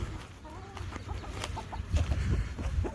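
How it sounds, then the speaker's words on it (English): Backyard chickens cluck in short, irregular bursts, some calls sounding close and others further off, over a steady low rumble of background noise. "Meanwhile, Chickens!"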